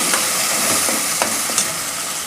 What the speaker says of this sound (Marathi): आता हे मस्त तेलावर छान परतून घ्यायची।